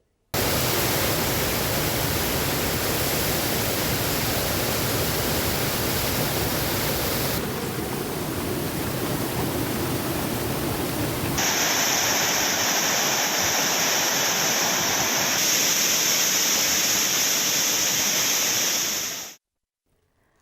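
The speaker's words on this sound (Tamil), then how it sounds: "குற்றால அருவிகளில் நேற்றிரவு திடீரென காட்டாற்று வெள்ளம் ஏற்பட்டது" The Courtallam waterfalls roar in a flash flood after heavy rain, a loud, dense and unbroken rush of falling water heard alone from close range, cutting off abruptly at the end.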